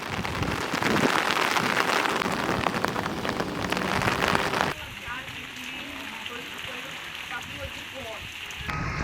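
Steady hiss of drizzling rain in Jamshedpur, Jharkhand, falling on surfaces, louder and denser at first and then thinning to a softer patter with scattered drops.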